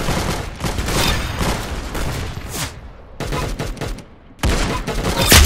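Rapid bursts of automatic gunfire ring out in the Roblox shooter Arsenal, loud and close, with brief pauses between volleys and a sharp final burst.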